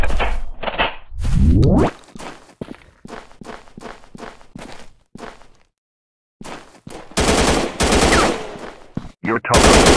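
Gunfire rings out in a sniper shooting game on Android: loud, sharp shots and rapid bursts come in clusters around a brief silent gap, with snappy impacts between them.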